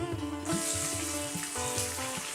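Chopped onion goes into hot oil already holding fried whole spices, including black pepper and mace, for a mutton curry. A steady, close sizzle swells at about half a second and continues under melodic background music.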